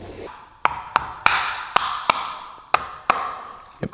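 Hammer taps knocking a part out of a DR grader box, about eight sharp metallic strikes at an uneven rhythm, each with a brief ringing decay, close and clear with no talk.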